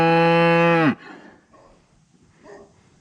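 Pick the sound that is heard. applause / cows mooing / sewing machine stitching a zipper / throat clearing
cows mooing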